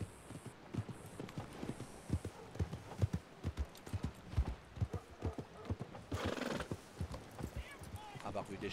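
Horse hooves clop in an uneven rhythm through a town in a Western game setting, with a whinny partway through and voices talking over the hoofbeats.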